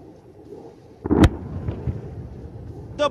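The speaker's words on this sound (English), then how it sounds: "The bomb explodes." A laser-guided bomb detonates on target during an Indian Air Force firepower demonstration, a single distant boom with a brief rumbling tail that fades into open-air noise, followed by a faint later thump.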